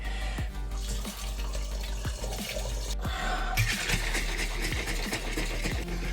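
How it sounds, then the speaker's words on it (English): Cranberry wine must pours into a fermenter as a steady liquid splash and gurgle that runs the whole way, brightening partway through, with small knocks and clinks of the vessel scattered over it. "next we're gonna pour half of our fluid into our fermenter"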